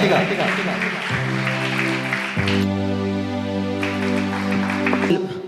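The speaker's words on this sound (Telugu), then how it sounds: "అందరికీ చప్పట్లు కొట్టి ఆహ్వానిద్దాం గట్టిగా" An audience at a youth Christmas church gathering claps to welcome guests onto the stage, a dense burst of applause mixed with loud music and sustained tones, the clapping fading as the music carries on.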